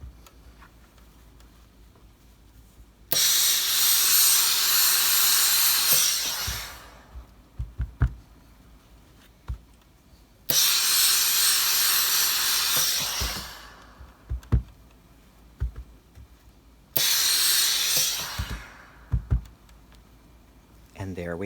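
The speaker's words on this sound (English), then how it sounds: "you don't have to give this a hard press, but you do want to steam it." A steam iron on a sleeve board sends three loud bursts of hissing steam into a coat cuff, each lasting a few seconds and separated by quieter pauses with faint clicks and knocks.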